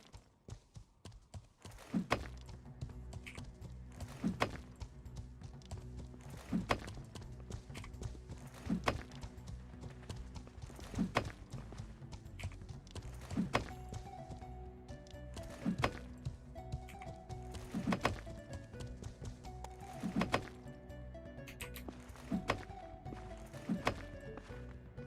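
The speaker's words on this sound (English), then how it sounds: "I hear the horsey. The horsey's back." Horse hooves clip-clop steadily in an MMO game, regular hoofbeats about every two seconds ringing over a busy layered game soundscape with no talk.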